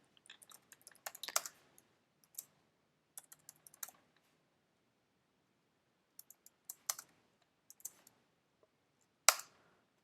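Code is typed on a computer keyboard in short bursts of quick, close key clicks separated by pauses, with one louder tap near the end and no talking.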